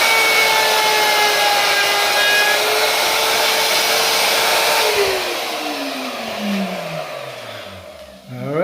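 A power cutting tool, likely a saw or grinder, runs steadily through a custom rear diffuser panel for a Pontiac G8 GT, a loud continuous whine that drops in pitch near the end as the tool spins down, with no talking.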